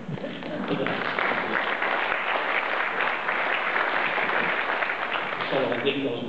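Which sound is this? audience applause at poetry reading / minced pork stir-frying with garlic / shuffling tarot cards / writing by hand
audience applause at poetry reading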